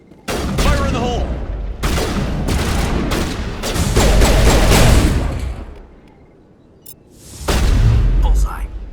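Mass Effect combat brings bursts of rapid gunfire and sharp impacts, a heavy grenade blast swelling and fading, then another volley of shots, with a voice calling out amid the noise.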